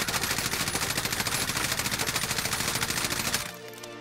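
An M4A1 rifle in Modern Warfare Warzone fires a sustained full-auto burst at a test wall, a loud, rapid, even rattle of shots that stops abruptly near the end, leaving a brief echoing tail.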